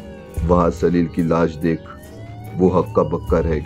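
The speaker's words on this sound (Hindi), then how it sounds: "बैंक के बाहर पुलिस के सायरन बजने की आवाज आ रही थी" A police siren wails outside a bank, its rising tone running steadily under a narrator's continuous speech.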